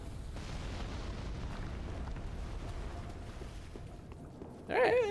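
A fire bomb bursts in Dark Souls III, one sudden loud blast near the end after a stretch of steady game noise.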